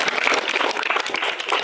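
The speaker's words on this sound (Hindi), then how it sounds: "तो इनके लिए एक बार जोरदार ताली हो जाए।" An audience at a Bhagavad Gita quiz event gives a brisk round of applause for a top student, many hands clapping in a busy, continuous patter.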